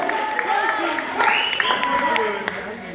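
Applause and cheering from the crowd at a calisthenics bars battle, greeting competitor Nardi, a steady clatter of clapping with a shouting announcer voice over it.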